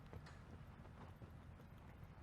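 Horse hooves clip-clopping at a walk in a riding session, a steady rhythm of soft thuds, faint and close, with no talk.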